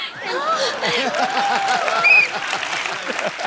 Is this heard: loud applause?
yes